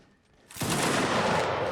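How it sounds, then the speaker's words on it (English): A sudden massed volley of musket fire from the VA Guard in a Napoleonic Egypt campaign battle bursts in at once and rolls on as a dense, loud crackle, with no talk over it. "Volleys from the VA Guard are always a joy to see."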